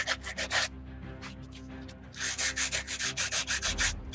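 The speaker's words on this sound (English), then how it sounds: "So I'm gonna take a little sanding block here," A small sanding block rubs back and forth on the aluminum face of a Harley Dyna belt pulley to knock off high spots and corrosion, close rhythmic scratchy strokes in bursts, with a pause before a faster run of about a dozen strokes.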